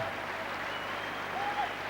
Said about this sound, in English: they're probably also giving the England players a big cheer as well